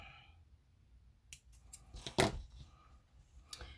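Scissors snip through embroidery thread during a hand-stitching project, giving a few soft, close cuts with a sharper one near the middle, and nobody talks.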